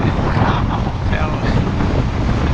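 Strong wind on Crete buffets the microphone in a steady, loud, roaring rush that lasts throughout with gusty swells and no pauses.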